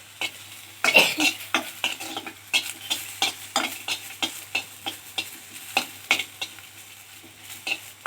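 Green chillies frying in oil in a pan: a quick, rhythmic series of close scraping stirs over a low, constant sizzle, with a louder clatter near the start.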